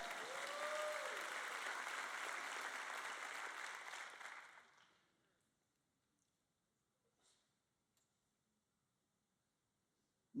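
Loud applause from a church audience during a sermon, sustained for about four seconds before fading away into near silence with only faint stray sounds.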